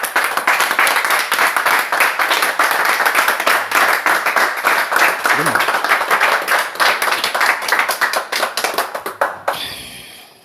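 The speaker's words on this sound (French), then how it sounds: "Applaudissons pour le Seigneur." A church congregation claps loudly and steadily together for about ten seconds, a dense, close wall of hand claps that thins out and fades near the end.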